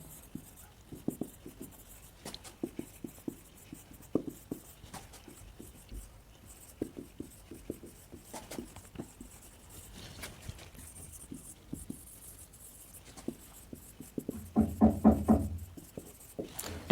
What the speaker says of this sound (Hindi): पहले डेफिनेशन लिखते हैं